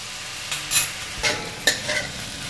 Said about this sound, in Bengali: হালকাভাবে নাড়িয়ে নেওয়া হচ্ছে।